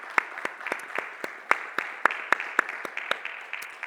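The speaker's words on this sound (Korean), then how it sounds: "영광의 박수 올려드리겠습니다" A church congregation at a Korean Presbyterian service claps together in steady, rhythmic applause, a warm, roomy wash of hands with regular louder claps, no talk.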